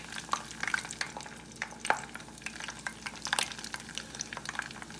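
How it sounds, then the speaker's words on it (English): Spring roll frying in hot grease on a high flame, a close, crackling sizzle with rapid irregular pops and spatters throughout. "put it in some hot grease and let it fry"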